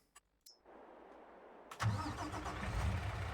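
In Farming Simulator, a truck engine cranks over and catches after a few quiet clicks, then settles into a loud, steady idle nearby.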